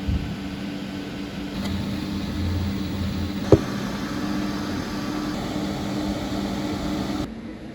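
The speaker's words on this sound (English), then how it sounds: "Sounds like an aircraft sitting on the tarmac," Windows XP PC case fans blow a steady, even rush of air with a low hum, like an aircraft idling. A single faint click sounds midway, with no talking.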